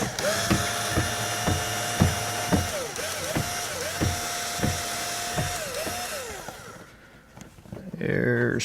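A power drill backs two Phillips screws out of a GM truck door, whining loudly in repeated short bursts with rising and falling pitch, then stopping, with brief rattling at the end.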